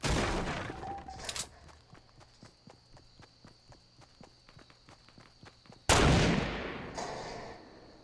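Gunfire in the video game Fortnite: loud shots and impacts at the start, then a run of quick, evenly spaced footsteps, before another heavy blast and a crash near the end.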